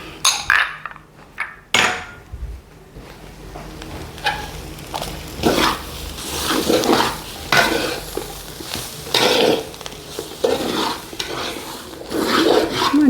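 Garlic and ginger stirred and scraped around a hot pan for Kerala chammanthi podi, with steady scraping and rubbing strokes, clinks of a spoon against the metal, and a soft sizzle underneath, close and fairly loud.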